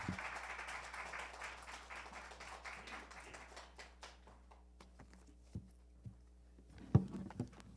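A church congregation claps to welcome the pastor, a dense burst of applause that thins out into scattered claps and fades into a quiet room.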